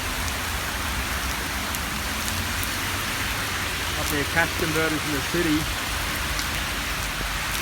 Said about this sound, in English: Just had a massive downpour